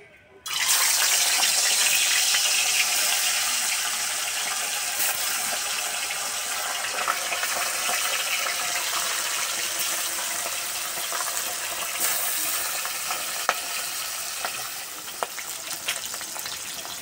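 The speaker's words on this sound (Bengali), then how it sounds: "তেল গরম হয়ে গেছে, মাছ ভেজে নেব" Tilapia fish sizzles vigorously in hot mustard oil in a pan over a wood-fired stove, a loud hissing crackle that bursts in suddenly and stays steady and close throughout.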